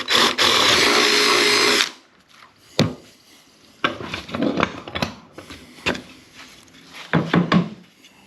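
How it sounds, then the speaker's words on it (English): A power drill whirs steadily for a couple of seconds, boring a half-inch hole in a wooden birdhouse front, then stops, followed by scattered knocks and handling clatter of wood and tools. "We'll drill us a 1/2 inch hole in the front of it"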